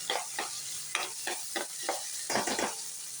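Food sautéing in a pan before tomatoes go in, with a continuous sizzle punctuated by repeated scraping stirs of a spatula, close and fairly loud.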